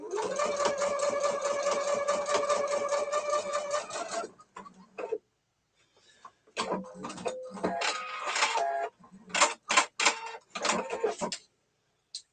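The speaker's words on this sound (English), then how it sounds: "Now I'm going to sew with the laser light helping me sew right down out the V of the other side." A sewing machine stitches a binding strip in rapid rhythmic bursts, a long steady run followed by a pause and several shorter start-stop runs, loud and close.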